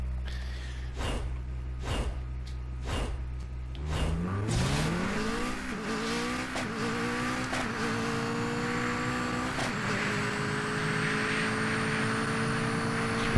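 A racing car in Super Street The Game idles with rhythmic engine pulses, then revs and pulls away, engine pitch climbing through several gear shifts as it accelerates steadily and loudly, with no talk.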